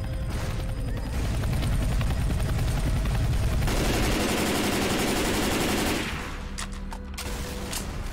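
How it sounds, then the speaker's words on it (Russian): A helicopter boss in Left 4 Dead 2, on a Resident Evil 3 custom map, unleashes loud sustained machine-gun fire over rotor and mechanical rumble, then the barrage cuts off to quieter game noise. "Да, легкий был босс-вертолет."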